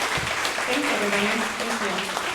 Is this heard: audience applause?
yes